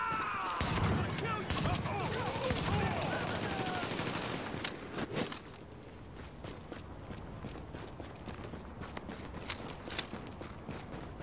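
Relentless video game gunfire, dense rapid bursts and shots overlapping with hoofbeat-like clatter, loud at first and then continuing as scattered sharp shots over a quieter bed.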